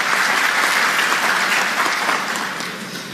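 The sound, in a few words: audience applause for the speaker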